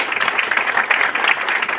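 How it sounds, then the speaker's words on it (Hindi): Audience applause at a corporate event for a real estate company, a steady dense wash of hands clapping that holds at an even level for the whole stretch with no voices on top. "उनके लिए एक बार ताली बज दीजिए"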